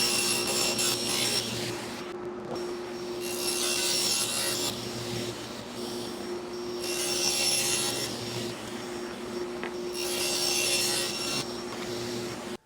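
Table saw ripping a 12.5 degree bevel along a wooden mantel board, a steady loud whine with strong cutting bursts that swell and ease three times over a continuous motor hum.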